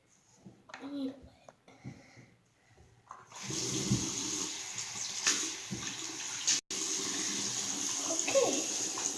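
A bathroom tap turns on partway through and runs in a steady, close, continuous rush of water for washing a face, after earlier rustling, with a voice speaking before and around it.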